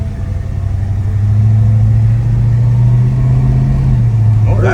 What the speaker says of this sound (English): Now we got to hope and pray that the transmission shifts right.